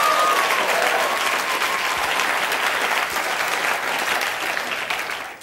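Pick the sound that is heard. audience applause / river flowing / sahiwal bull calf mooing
audience applause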